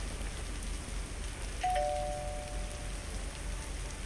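Steady rain pours outdoors in the game Lake, a constant even hiss of falling water, with a single soft chime ringing out briefly midway.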